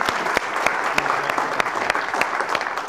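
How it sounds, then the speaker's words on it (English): An audience at an elections summit applauds volunteers, a dense steady clapping with a few sharp louder claps standing out through the whole span, no voices over it. "Round of applause for our volunteers"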